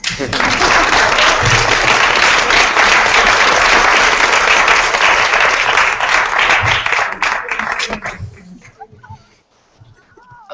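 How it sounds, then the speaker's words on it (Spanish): Loud, sustained applause from the audience at a panel discussion fills most of the clip, then fades out toward the end, leaving faint movement and a brief voice. "Un aplauso."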